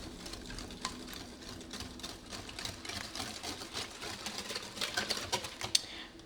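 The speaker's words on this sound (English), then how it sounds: "Now I'm just going to give everything a really good mix and combine it well." A spoon or whisk stirs sweet potato pie filling with evaporated milk in a bowl, giving a steady run of close scraping and sloshing with small clinks, continuous throughout and no voices.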